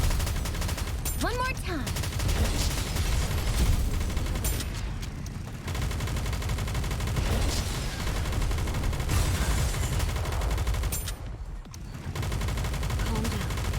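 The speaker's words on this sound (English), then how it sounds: "Keep shooting!" Continuous heavy gunfire and explosive blasts fill a battle in the mobile shooter Nikke: Goddess of Victory, loud and dense throughout the stretch, while a character's voice speaks briefly over the shooting.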